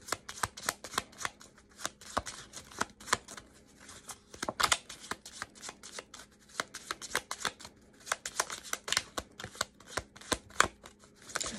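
Oracle cards shuffled by hand for a reading, a close, steady run of crisp riffling slaps and flicks repeating quickly throughout with no talking.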